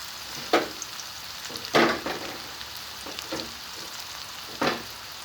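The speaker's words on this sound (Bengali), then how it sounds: "দিয়ে দিচ্ছি আমি রসুন কুচি, দিয়ে দিলাম আমি রসুন কুচি।" Chopped garlic fries in a pan, a soft constant sizzle broken by a few sharp stirring scrapes, no talk.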